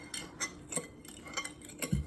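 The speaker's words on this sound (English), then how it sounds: "Keep stirring. Gently." Gluten-free brownie batter being stirred in a bowl by a child, a spoon scraping and knocking against the sides in light, uneven strokes, close and fairly quiet, with no talking.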